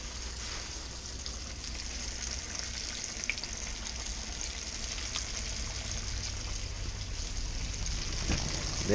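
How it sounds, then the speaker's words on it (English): Freshly caught bream sizzle in hot grease, a loud, dense crackle that runs unbroken throughout and sits close to the pan, with no talking. "Them there's frying up just right."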